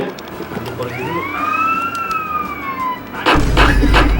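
A video game police siren wails behind a fleeing player, two rising and falling tones sweeping clearly over a low engine hum, ending abruptly as a louder burst of game noise cuts in.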